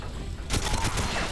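A short rapid burst of gunfire from GoldenEye 007 on the Wii breaks in after a brief quiet moment and rattles on sharply to the end.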